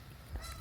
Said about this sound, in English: Sounds like a geese calling this morning.